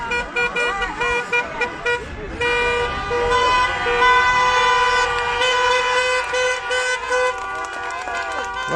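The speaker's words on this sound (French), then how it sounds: "ça klaxonne" Car horns honk in sustained, overlapping blasts on the Zénith parking lot in Rouen as a Freedom Convoy gathers to depart, loud and continuous, with crowd noise and talk beneath.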